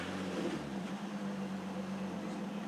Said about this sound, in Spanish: Típico ruido de falla de sistema de encendido